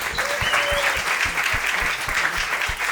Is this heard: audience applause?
yes